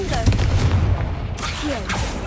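Confringo blasting spell explosions in the video game Hogwarts Legacy: loud booming game blasts with crackling debris layered over continuous game music and ambience, with a speaking voice heard.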